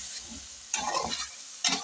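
A spoon stirs three tomatoes into chicken frying in a cooking pot, giving two brief scraping, sizzling bursts over a low hiss, close and moderately loud with no voices.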